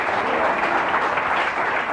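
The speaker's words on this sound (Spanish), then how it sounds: "¿Alguien le puede dar un aplauso en esta mañana al Señor?" A church congregation bursts into loud, sustained applause during a Spanish-language sermon, dense clapping filling the room evenly for about two seconds.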